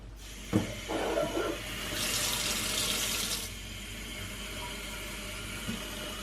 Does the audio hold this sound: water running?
yes